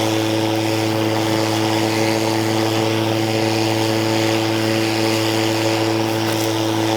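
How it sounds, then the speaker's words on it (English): Electric lawn mower mowing wet grass, giving a steady close motor whine with a constant tonal hum and whooshing cut grass, loud and unbroken with no talking. "the mower is actually really, really quiet compared to a gas mower"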